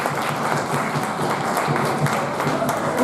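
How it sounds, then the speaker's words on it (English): Sustained audience applause, dense and steady throughout, from a crowd gathered for a group discussion session, with no pauses or breaks in the clapping. "Big round of applause."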